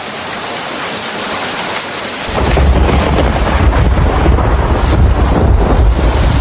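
Heavy rain pours down in a Bengali cartoon scene, starting as a thinner hiss and swelling abruptly into a loud, dense roar with a deep rumbling low end, continuous and without voices.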